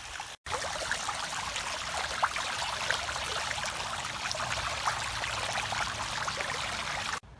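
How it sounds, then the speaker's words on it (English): Water drains from an emptied backyard pool in a continuous, steady rushing stream, fairly loud and close, broken only by a brief dropout near the start, with no voices. "We still got a little bit of water coming out, but not a whole lot."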